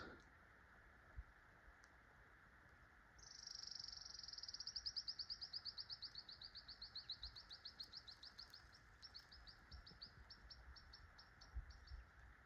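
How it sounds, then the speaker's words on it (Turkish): A small bird sings a long, rapid series of repeated chirps, fairly clear over steady background hiss and faint rumble, with no voices. "Kuş sesleri."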